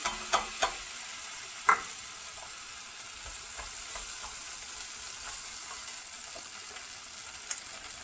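A spoon stirs red lentils and vegetables in a pot for Turkish lentil soup, making a steady low sizzle with scattered clicks and scrapes, quiet and close with no speech.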